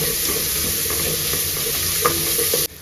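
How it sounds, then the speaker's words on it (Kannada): Onions fry in a pan for mushroom biryani, producing a loud, even sizzle with a faint stir or two before it drops off abruptly at the end. "ಇವಾಗ ಇದನ್ನೆಲ್ಲ ಚೆನ್ನಾಗಿ ಫ್ರೈ ಮಾಡ್ಕೊಳ್ಳೋಣ. ಈರುಳ್ಳಿ ಚೆನ್ನಾಗಿ ಫ್ರೈ ಆಗಲಿ."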